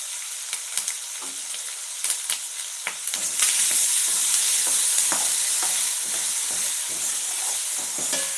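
Curry leaves dropped into hot oil in a pan for lemon rice: scattered crackles and pops at first, then a loud, close, continuous sizzle.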